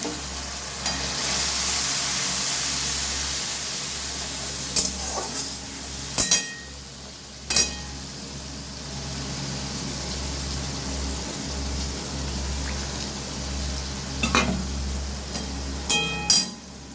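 Spice paste fries in a pan with a steady close sizzle, stirred now and then, with sharp scraping clacks of the spoon at intervals; fish curry with aubergine being cooked.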